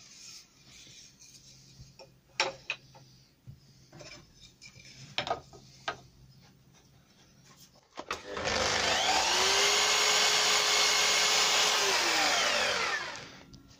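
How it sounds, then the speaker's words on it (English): Saw blade cutting wooden beading for alcove cupboard doors, preceded by a few light knocks and clatter, then a loud close steady whine for several seconds that winds down at the end. "So the blade was cutting up."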